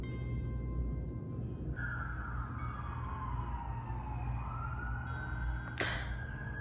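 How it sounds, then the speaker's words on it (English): Emergency vehicle siren outside an apartment building, a steady wailing tone sliding slowly down and back up over low background rumble, moderately distant and continuous, with a brief sharp noise near the end. "I don't know if you can hear the siren."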